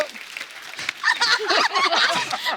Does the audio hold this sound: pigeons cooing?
no